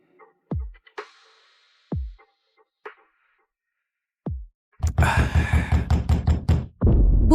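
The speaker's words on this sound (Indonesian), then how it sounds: "Aku mengetuk, kau buka 5 detik maksimal." Knocks on a door in an Indonesian drama scene: four single, solid knocks spaced a second or more apart, followed by close, continuous talking.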